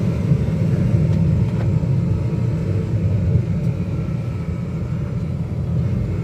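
A Daihatsu Hijet 4WD mini truck driving along a street in third gear, a steady loud low engine drone and road rumble from inside the cab, even throughout.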